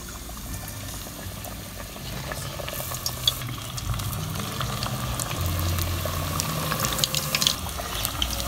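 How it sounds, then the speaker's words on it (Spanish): Battered fish fillets fry in oil over low heat with a steady, close crackling sizzle that runs without a break and grows slightly busier toward the end; nobody speaks. "a freír."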